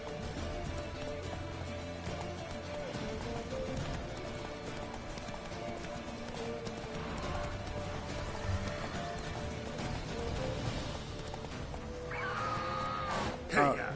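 Horse hooves clip-clop at a gallop in The Witcher 3, a steady rhythmic pounding under game music and effects, with a whinny-like sound near the end.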